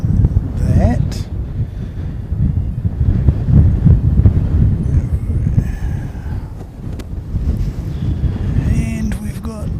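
Strong 27-knot wind buffets the microphone at an outdoor plane-spotting spot in Christchurch, a loud, gusty low roar that rises and falls, with brief voices talking over it.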